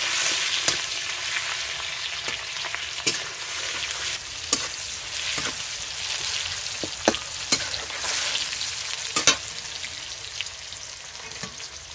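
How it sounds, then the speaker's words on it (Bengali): Chopped tomato frying in a pan with a steady sizzle, with occasional sharp crackles and stirring clinks as it softens; no one speaks. "টমেটোটা একটু ভাজা ভাজা হোক,"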